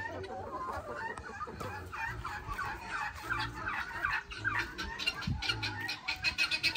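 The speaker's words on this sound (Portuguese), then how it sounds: "Gente tem os peru." Turkeys gobble repeatedly in a farmyard pen alongside free-range chickens, loud bubbling calls overlapping with clucks and other fowl noise throughout.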